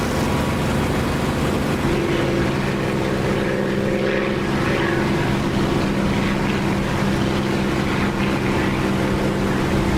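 A jet engine roars with the cockpit canopy open in the DCS flight simulator game. The loud, dense, unbroken roar carries a steady whine over it, with no talking.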